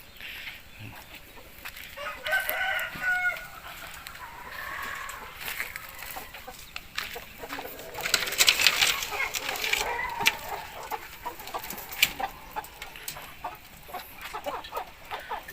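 Chickens on a Thai breeding farm cluck and crow in a lively, irregular chorus, with rising and falling calls that come close and loud in bursts while someone talks intermittently.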